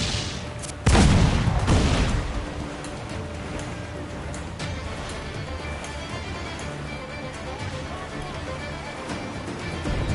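Ship cannon fire in Assassin's Creed Black Flag: one loud close boom with a long rumbling tail, then a steady wash of battle noise and faint distant shots under shouted commands.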